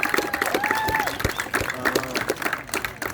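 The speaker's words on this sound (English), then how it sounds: "Huge round of applause, guys." Applause from a crowd at a mental-health walkathon event, a dense burst of clapping mixed with some cheering that carries under a voice speaking over it.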